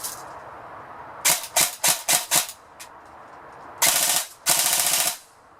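A repaired Bolt MP5 airsoft gun fires BBs in bursts, first a string of five quick separate shots, then two longer sustained rattling bursts, loud and close with no talking.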